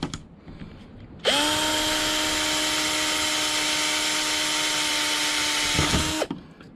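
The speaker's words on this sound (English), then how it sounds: "I'm taking it easy with the drill because I don't want to smash the can" A power drill boring holes in a metal can whirs at a steady high pitch for about five seconds, loud and close, then winds down and stops.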